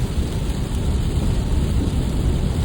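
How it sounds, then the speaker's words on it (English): Heavy rain drums steadily and loudly on the windshield of a 2025 Tesla Model Y driving at highway speed, a dense, continuous wash with deep low rumble and no voices. "the rain is heavy and my windshield is blurry"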